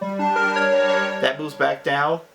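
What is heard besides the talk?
No everyday noises stand out.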